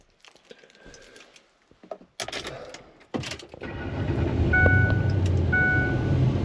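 Pickup truck engine idling close by, a steady low rumble that settles in after a few scattered knocks and bumps and holds evenly to the end.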